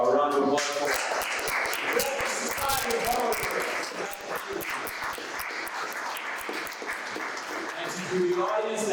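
An audience at a poet laureates' talk applauds, crowd clapping spread across the stretch under cheering voices and talk, fairly full and steady with a brief dip midway.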